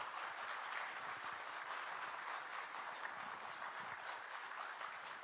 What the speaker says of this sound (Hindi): सबसे पहले जोरदार तालियां हरियाणा के मुख्यमंत्री मनोहर लाल जी के लिए।